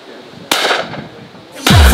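At a shooting outing, two loud, close shotgun blasts fire about a second apart. The second lands with a heavy, booming low-end thump.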